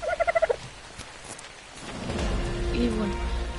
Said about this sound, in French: Déjà qu'il fait nuit, en plus il pleut maintenant.